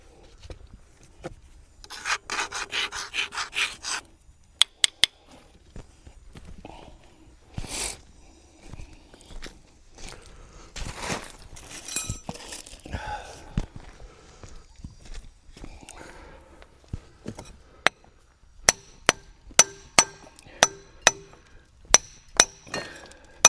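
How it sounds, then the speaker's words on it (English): Packed dirt is chipped off the stuck drum of a BOMAG trench compactor, sharp metallic clinks and scraping rasps coming in uneven bursts, then a run of isolated ringing taps spaced about a second apart near the end. "So I'm going to have to chip all the rest of this off"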